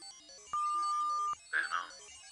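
Phone ringing for an unanswered call: a single long steady electronic ring tone lasting under a second, followed by a brief warbling chirp, clear and fairly close over quiet background.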